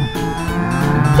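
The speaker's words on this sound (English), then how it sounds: "a Brahman cow" A Brahman cow, one of the Zebu cattle, moos loudly and close by in one sustained, low, drawn-out call lasting over a second.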